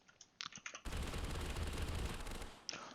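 A FAMAS rifle fires in TABG, a sustained burst of rapid automatic shots lasting about two seconds, loud and dense, bracketed by lighter clicking game sounds before and after.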